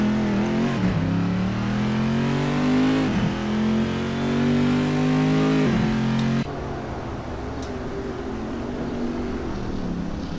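A race car in a sim racing game on the Nordschleife pulls away from the pits. The engine is loud and close, revving through rising gear pulls with brief shift dips, then settles into a steadier, quieter drone.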